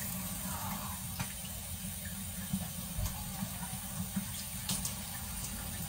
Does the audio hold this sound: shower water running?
yes